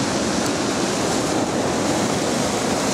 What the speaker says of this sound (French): Et regarde les belles vagues qu'il y a là